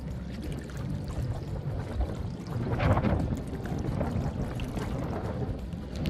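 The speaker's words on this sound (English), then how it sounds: "The sound of a creek flowing." A creek on a remote island flows steadily with a continuous watery rush and low wind rumble, swelling briefly louder midway before settling back.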